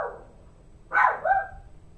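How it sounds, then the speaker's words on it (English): A pet dog named Rosie barks indoors, one or two sharp yips close by after a quiet moment, with a short whining tail between them. "Rosie, what are you barking at? Don't bark, honey bun."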